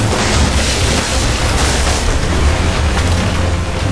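Ship cannons firing during a naval battle in the video game Assassin's Creed Rogue, a loud, sustained rumble of booming blasts that blend into one another, close and heavy from start to end.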